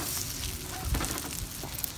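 Food sizzles on a Copper Chef grill mat, a steady crackling fry hiss that runs throughout with small pops and spatters, close and moderately quiet.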